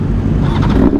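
A BMW S1000 motorcycle engine runs close by as a loud, steady, low rumble for about a second, with no clear ignition catch or rev rise.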